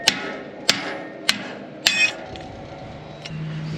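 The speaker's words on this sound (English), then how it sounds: "and smack it with a hammer." Four sharp hammer strikes ring out on metal as a spring on a sleigh part is knocked into place, evenly spaced and close, each with a brief metallic ring, followed by a faint clink.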